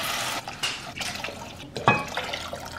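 Water poured into a pot for red lentil soup, a continuous splashing, trickling flow with small surges and drips, close and fairly loud, with no talking over it.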